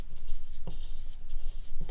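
A crayon scratches lines across paper, short rough strokes with brief sharp contacts repeating at a steady pace, close up and alone.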